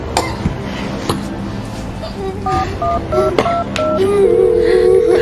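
A push-button telephone is dialed to call a doctor during a Thai drama scene: a quick run of short dual-tone beeps, then a steady tone, over a busy room background.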